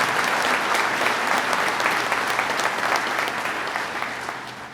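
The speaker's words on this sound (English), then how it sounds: "Give yourselves a round of applause." Graduates and guests at a New York State Police basic school graduation break into loud, dense applause, a continuous roar of many hands clapping that fades gently toward the end.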